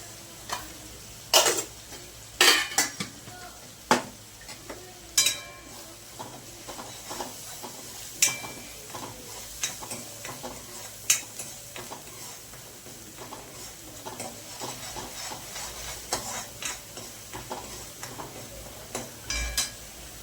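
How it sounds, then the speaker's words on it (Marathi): Spices and cauliflower fry in oil with a low bubbling sizzle, while a spoon scrapes and clacks against the pan in sharp irregular strikes, louder early on and then lighter taps. "तेल सुटेपर्यंत चांगलं फ्राय करून घ्यायचं."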